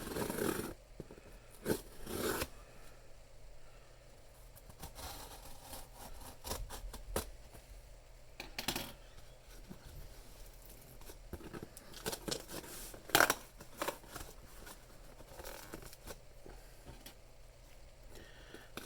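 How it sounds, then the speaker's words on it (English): Small sharp scissors snip and cut open a cardboard box of graded trading cards close by, with scattered clicks and scraping against a low steady background hum. "My weapon of choice here, a nice sharp pair of small scissors."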